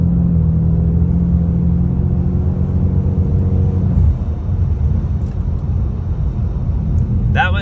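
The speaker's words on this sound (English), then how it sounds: "that was me hitting the gas pedal" A Ford Mustang EcoBoost S550 engine revs hard for about four seconds as the gas pedal is floored, a loud droning rumble that then drops to a steadier, lower running note.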